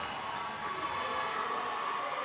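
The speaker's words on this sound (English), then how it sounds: "The crowd shows their approval." Fans at a roller derby bout cheer and shout in a steady, roaring wash of voices, with whoops rising above the crowd noise.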